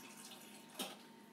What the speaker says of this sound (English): Okay, so I just put in about a cup of water.